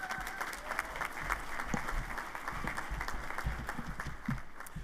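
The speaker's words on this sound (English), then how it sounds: "Please join me in giving a round of applause." A crowd at a university spring commencement ceremony claps in a steady, moderately distant round of applause with scattered sharper claps, continuous for the whole stretch without talk.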